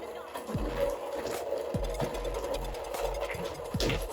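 An electric mixer creams butter and sugar with a steady whirring drone, broken by short knocking bumps every second or so, heard fairly close under quiet room sound.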